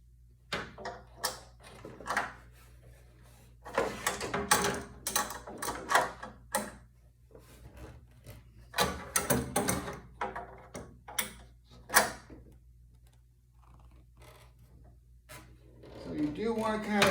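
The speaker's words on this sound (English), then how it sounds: "I'm going to be tightening this nut right here. I can do it by hand a little bit first." Hand tightening of a nut on a Sole elliptical during drive belt work produces scattered light mechanical clicks and ratcheting ticks, close up, with bursts of talk in between.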